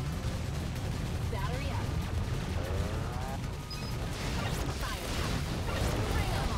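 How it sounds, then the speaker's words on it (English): Rapid bullet fire in the Assault Android Cactus shooter game, a dense continuous barrage of crackling shots and impacts running throughout, with a player's voice talking over it. "Ooh, that's a lot of bullets."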